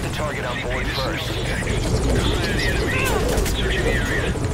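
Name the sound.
helicopter in video game Metal Gear Solid V: Ground Zeroes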